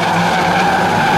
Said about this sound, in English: 370 Rowan Venai gets spun out here on the home straight